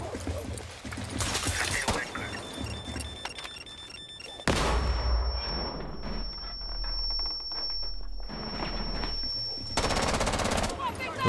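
Rapid automatic gunfire from a recoil-heavy gun in Rainbow Six Siege, with bursts of shots and loud game effects, a sustained high whine through the middle, and a voice speaking at points.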